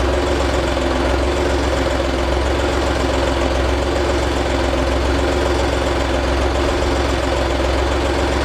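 An Arbos 2035 tractor's diesel engine idles steadily at close range after an oil change, a constant low rumble with rhythmic knocking and no other sounds.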